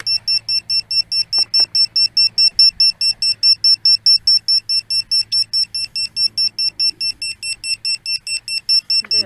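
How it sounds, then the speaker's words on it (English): VIFLY Finder lost model alarm buzzer beeping in a fast, even train of loud shrill pulses, close up and continuous with no voices. "Let's go ahead and activate the lost model alarm."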